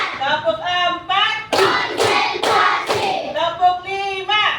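Children in a classroom doing a rhythmic hand-clapping count game: a few loud, crisp group claps land in the middle, framed by young voices calling out before and after.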